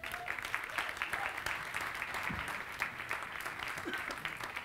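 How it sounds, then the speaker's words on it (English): Audience applause at a FameLab science communication competition semi-final, sustained even clapping from a crowd at moderate distance throughout. "can we please give them some applause as we bring them on?"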